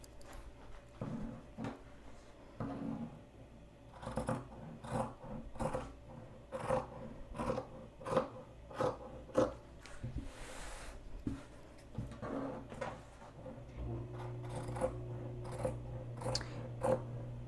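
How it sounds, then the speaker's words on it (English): Scissors cut through T-shirt fabric along a chalk line in a series of crisp, close snips, spaced irregularly with short pauses, over a faint steady background hum. "I'm gonna make sure to cut just outside that chalk line"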